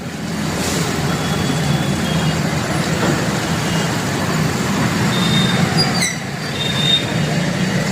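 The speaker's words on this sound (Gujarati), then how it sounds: "ઉપર ટ્રેન છે નીચે રેલવેનું અંડરબ્રિજ છે" A train rolls overhead across a railway underbridge in Bhavnagar, a loud continuous rumble and clatter of wheels heard from below, with faint squeals of wheels on rails.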